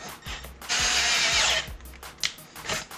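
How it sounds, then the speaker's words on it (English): A small power drill drills a hole with the bit spinning slowly, whirring in short bursts with one longer steady run in the middle, close by, interspersed with clicking and ratcheting mechanical sounds. "spinning the drill bit slow and letting the drill"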